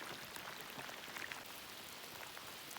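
Steady rain pattering on surfaces at a lakeside backcountry campsite on Hambone Lake in Algonquin Park, a dense, even hiss of drops with no voices.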